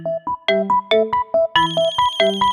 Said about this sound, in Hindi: फोन उठा, फोन उठा, फोन उठा, फोन उठा।